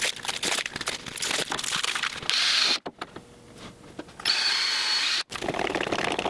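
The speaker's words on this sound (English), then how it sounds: "Flipped it over to drill on the other side." A power drill whirs in several long bursts drilling into wood, its pitch shifting under load, with brief pauses and clattering handling noises between runs, close up.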